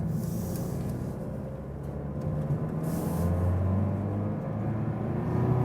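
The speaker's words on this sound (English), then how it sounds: "you hear it's a diesel, but I think it's not too annoying at all" A Mercedes V-Class van with a diesel engine drives along, a steady low engine rumble and road noise filling the cabin throughout, fairly even and moderately loud.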